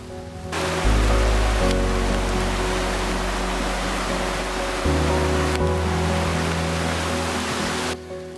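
A river flows through a forest in Roan Mountain State Park, Tennessee, in the rain, giving a loud steady rush of water that cuts in abruptly, close and continuous, with no voices.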